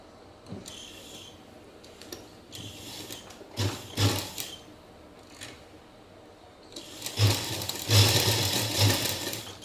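Sewing machine starting to stitch a pocket on palazzo pants, short bursts of mechanical clatter and clicks, with a longer, louder run of stitching toward the end.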